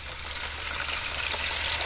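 Pieces of channel catfish fry in hot oil, a steady, fairly faint hissing sizzle with no speech over it.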